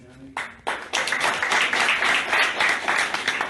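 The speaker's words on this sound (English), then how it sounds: "we'll give you a round of applause real quick from Wagner County" Audience round of applause at a county officials' association address, starting with a few scattered claps and swelling into a dense, steady ovation from a large room, sustained for several seconds.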